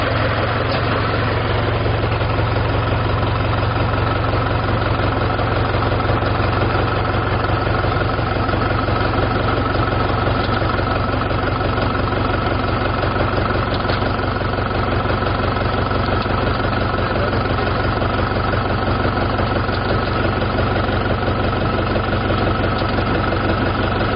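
A Mahindra or John Deere farm tractor engine idles steadily at close range, a loud, even diesel rumble with a constant low throb that holds unchanged for the whole stretch.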